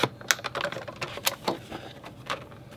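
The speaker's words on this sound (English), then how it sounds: "I just cut and turn and cut and turn and cut and turn until I've gone all the way around" Scissors snip paper that is rotated between cuts while shaping a snow globe Christmas scrapbook layout, giving a run of short, crisp clicks and snips at an uneven pace, close and fairly quiet with no voices.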